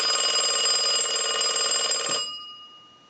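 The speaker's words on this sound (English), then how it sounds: "we want to go ahead and ring the unit with the analyzer" A loud electric bell of an old Stromberg Carlson telephone, rung by a test analyzer during repair, rings continuously in a harsh metallic trill for about two seconds, then cuts off and leaves a fading hum.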